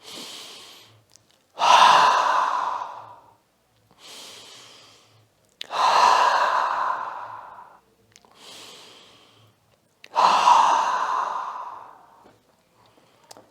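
Slow, deep relaxation breathing, alternating softer inhales with three louder, longer exhales, each a breathy sigh, close to the microphone in a quiet room.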